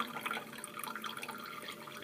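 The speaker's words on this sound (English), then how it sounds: "So I'm just putting a drop of water. And that will moisten up the paint." A drop of water falls onto tempera paint cakes, making a faint, soft drip against quiet background noise.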